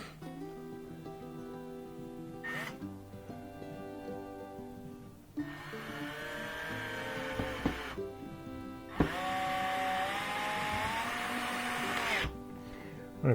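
Power driver sinking screws into the wood of a DIY chicken coop, a few whirring bursts that rise in pitch and grow louder, separated by short pauses, with faint background noise between.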